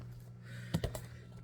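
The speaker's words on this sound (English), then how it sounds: "take my word that I'm shuffling cards" Tarot cards shuffled by hand over a cluttered kitchen table, giving a brief cluster of soft papery riffling clicks in the middle of an otherwise quiet room.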